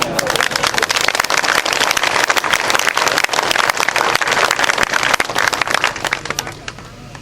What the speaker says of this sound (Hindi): तालियों की गड़गड़ाहट